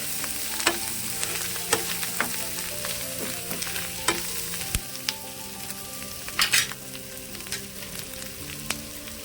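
Onions sizzle in a hot pan with a steady crackle, broken by occasional clinks and scrapes of a stirring spoon, no voices heard.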